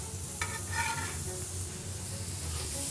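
Burger patties sizzle on a hot griddle plate, a steady close frying hiss with a few brief crackles near the start, no talking.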